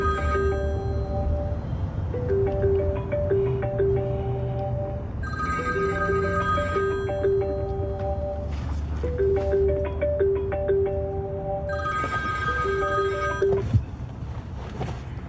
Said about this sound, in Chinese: 怎么半天不接电话呀？